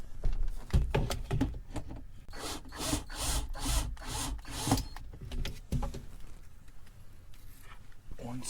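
A DeWalt drill backs screws out of a fitting in a camper van, giving repeated short whirring bursts of the motor, fairly close, with a voice over parts of it.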